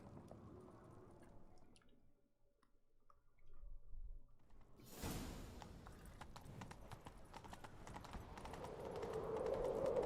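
Rapid hoofbeats of a galloping horse in The Witcher 3: Wild Hunt build after a quiet stretch, growing louder and denser toward the end over a rushing background.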